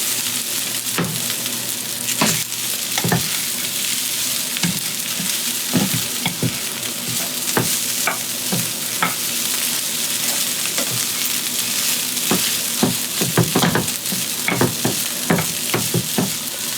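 Day-old leftover rice stir-frying for beef fried rice, a steady loud sizzle of oil broken by repeated sharp clanks and scrapes of a spatula against the pan as lumps are broken up, with no talking.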